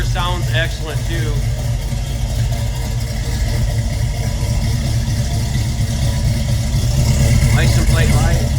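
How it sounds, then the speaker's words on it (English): The engine of a car idles with a steady, low rumbling hum throughout, fairly loud and close, while a voice briefly talks over it near the start and end. "Car sounds excellent too."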